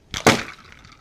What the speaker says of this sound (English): And just like that, the can is crushed.